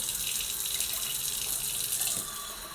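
Warm tap water pours steadily into a measuring cup for a few seconds, a close, even rushing stream that fades slightly at the end with no talking.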